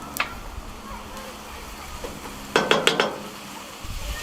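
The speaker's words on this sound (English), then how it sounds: "So let's dump in the veggies. Give them a bit of a sear as well." Veggies dumped into a hot Dutch oven give a sudden burst of sizzling and clattering partway through, a few sharp clinks over a low background hiss, with no talking in between.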